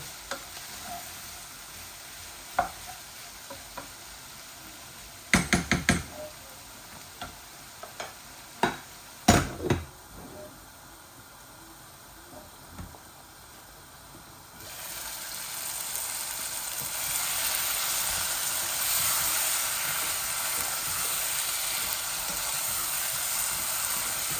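Potatoes and tomatoes frying in a pan with scattered clanks and scraping of stirring early on, then a louder, steady sizzle takes over for the rest.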